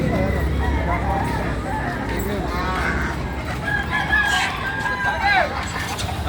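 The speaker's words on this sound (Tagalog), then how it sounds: "Daming manok." Many chickens cluck busily while roosters crow repeatedly, close and fairly loud, with a background murmur of people talking.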